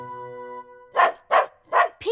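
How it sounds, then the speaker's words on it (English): A cartoon dog in an animated children's show gives three short, sharp barks in quick succession, loud and close, following a held musical tone. "no barking at the seniors"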